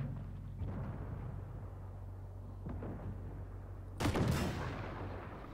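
A single heavy tank cannon blast from an AMX 10 RCR in the video game Armored Warfare booms once over a low rumbling engine drone, loud and close, followed by a fading crackle.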